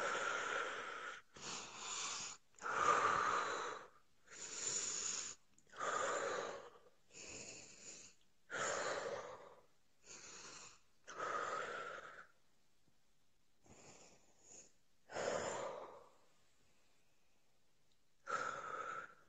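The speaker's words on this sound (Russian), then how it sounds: "Да дыши ты глубоко, я тебе говорю." A person breathes deeply and loudly at close range, taking about a dozen long, wheezy breaths in a steady rhythm with short gaps between them and a longer pause near the end, with no talk.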